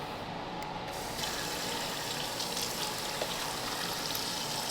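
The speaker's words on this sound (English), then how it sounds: "Then run hot water." Hot water runs from a tap in a steady, close hiss that carries on without a break, with faint clinks of ice cubes and detergent pods being rinsed.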